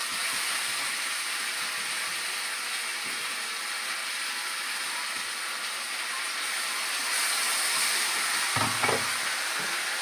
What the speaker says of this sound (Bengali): মশলাটা একটু ভেজে নিই